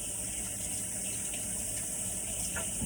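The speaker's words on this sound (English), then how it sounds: "And I turn on my hot water like this way and get it hot." Hot water runs steadily from a kitchen tap while Laguna Pueblo oven bread is being made, a continuous close rushing gush that holds level throughout with no talk.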